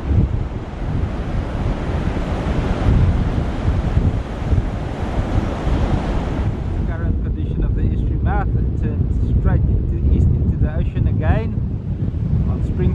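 Ocean waves and strong wind at the St Lucia estuary make a continuous, loud surf roar with heavy wind buffeting across the microphone, and faint voices are heard over the later part.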